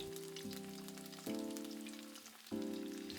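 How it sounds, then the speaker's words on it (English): Chicken tempura deep frying in hot oil at high temperature, giving a steady close sizzle and bubbling that surges afresh twice as more pieces go into the oil. "I deep fry them in a short time over high temperature to make elegant white tempura."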